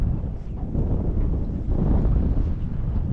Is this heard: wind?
yes